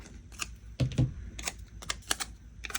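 Paper being cut in half with scissors while planning a journal, heard as a quiet run of crisp snips and clicks spread through the moment, close by with no talk.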